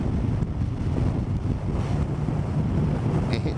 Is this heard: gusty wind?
yes